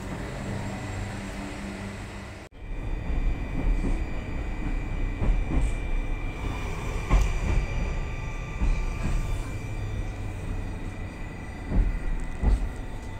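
A Tashkent metro train with new Russian-built cars rumbles along steadily, loud and close. Its tone shifts abruptly early on, and faint rattles and clunks sit over the continuous roar.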